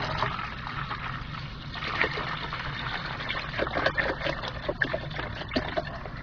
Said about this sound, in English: So I'm going to fill this up with water.